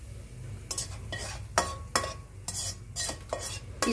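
Fried vegetables and very hot oil poured from a pan into a metal strainer set over a pot, making a run of close, sharp metallic clinks and scrapes over a low, steady sizzling hiss.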